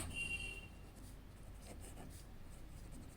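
A pen writing on paper during a maths lesson, a short, quiet run of scratchy strokes with no talking.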